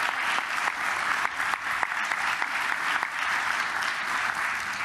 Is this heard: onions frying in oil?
no